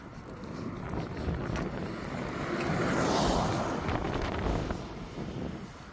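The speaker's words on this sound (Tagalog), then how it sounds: "yung hangin" Steady wind rushing past the microphone, a broad continuous roar that swells in the middle and stays loud throughout, with no voices.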